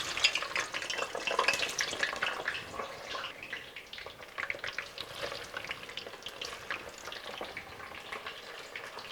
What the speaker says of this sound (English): let's move over to the stove and do the last deep fat frying